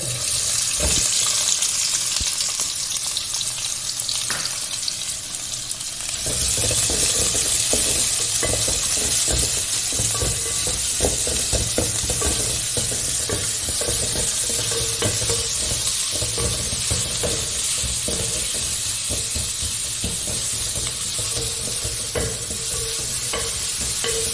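Sliced big onions fry in a pan for a homestyle crab roast, with a steady sizzle and occasional stirring clatter running throughout, close and fairly loud, with no talking.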